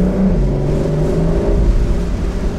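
A convertible car's exhaust and turbo drone steadily from close by, a low rumbling note with a slight rising pitch across a few seconds and no talk over it.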